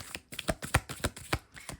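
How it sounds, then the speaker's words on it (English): A tarot card deck being shuffled at close range, giving a quick run of crisp riffling bursts at a steady rhythm, with no voices. "I hope the shuffling is not too loud."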